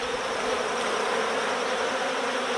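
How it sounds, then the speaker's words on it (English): Defensive honey bees under robbing pressure swarm densely during a Layens beehive inspection, making a loud, steady, close buzzing hum with no talking. "These bees are under some robbing pressure here, and because of that they're getting very defensive."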